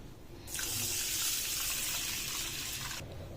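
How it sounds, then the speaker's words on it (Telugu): Rice being washed in water makes a steady, close rushing sound like water running into a sink. It lasts about two and a half seconds, then stops, with no talking. "మనం ఇక్కడ 2 టైమ్స్ బాగా కడిగి క్లీన్ చేసి పెట్టుకున్న తర్వాత బియ్యం"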